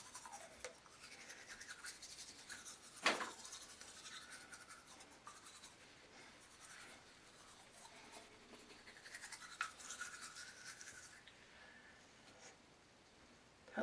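Soft, close scrubbing of a toothbrush working charcoal across teeth, a quiet irregular bristly rasp with a couple of sharper taps, no talking.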